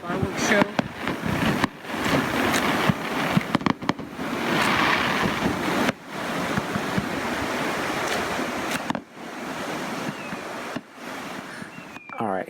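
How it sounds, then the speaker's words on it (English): Fireworks at a Folly Beach fireworks show crackle and boom in a continuous barrage, mixed with a steady roar of surf or crowd noise and some voices in the background. "here's a couple more shots of fireworks from Folly Beach last night"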